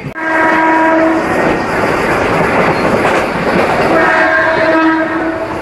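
A Narasapur to Guntur passenger train runs with a loud, continuous rumble and rattle of the wheels. Sustained horn blasts sound near the start and again near the end.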